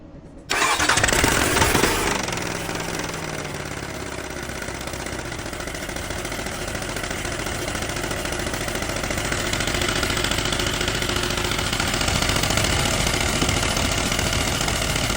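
A Cummins engine with a sound problem cranks and catches right away, then runs at a loud, steady idle with a rough, knocking undertone that holds for the rest of the time.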